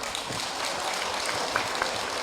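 Loud applause from a crowd at a barangay People's Day gathering, cheering for the mayor: dense, steady clapping filling the whole moment with a few brief louder spots and no talking.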